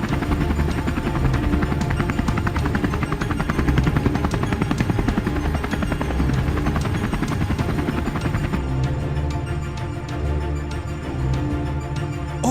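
A cartoon helicopter lands with a loud, steady rotor chop that throbs rapidly and stays close throughout, with no voices.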